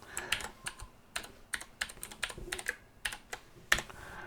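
Fingers tap a password on a computer keyboard in quick, irregular bursts of crisp clicks, close and quiet, with short pauses between clusters of keystrokes and no talking.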